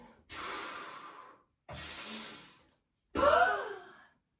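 Three slow, breathy exhalations during a leg-extension exercise, each about a second long and separated by short silences, the last one stronger with a slight voiced edge, close to the microphone.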